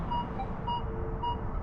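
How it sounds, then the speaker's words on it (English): Faint, thin electronic beeps pulse from a metal detector passed over a US quarter buried about 12 to 14 inches deep, sitting above a steady low rumble of background noise. "You can just hear it beep at about 12 to 14 inches"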